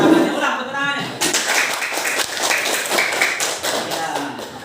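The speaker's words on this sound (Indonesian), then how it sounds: "Ulang tepuk tangannya." Classroom applause repeated: a burst of close, energetic hand claps from a group, with a voice speaking over the start before the clapping takes over and continues steadily.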